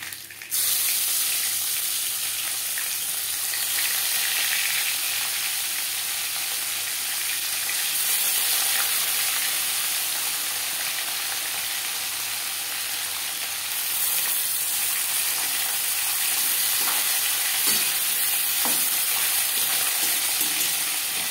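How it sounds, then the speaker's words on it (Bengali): Bhola bhetki fish fries crisp in hot oil in a pan, a loud, steady, dense sizzle running unbroken throughout, with no talking. "পরের মাছ একইভাবে ভেজে নেব।"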